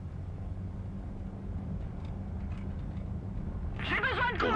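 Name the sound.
propeller airplanes taking off in War Thunder video game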